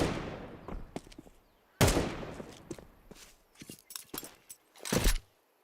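Grenade blasts and gunfire from a Counter-Strike esports match at IEM Krakow, with a heavy burst near two seconds and another near five, scattered shots and clicks between, loud and close without talk.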